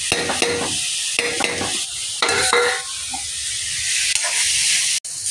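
A steady sizzle of radish with garam masala, asafoetida and turmeric frying in a hot pan, broken by bursts of scraping and stirring, close and continuous with no talking.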